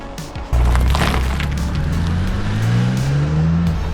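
A BMW Z4 roadster with the top up starts moving off, its engine rising suddenly into a loud, close drone that climbs steadily in pitch as it accelerates through a gear, heard from inside the car.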